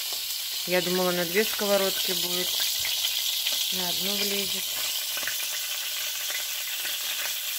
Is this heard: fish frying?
yes